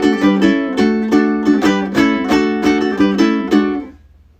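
Ukulele strums chords from a song in the lowest position, about a dozen crisp rhythmic strums, close and clear, ending with a ringing decay.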